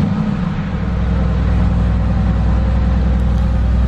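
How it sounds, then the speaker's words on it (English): Mercedes-AMG GT S engine in race mode runs with a loud, steady low rumble close by, a continuous throbbing drone with no clear start-up surge. "I put the ignition on, put it in race mode, and then start it"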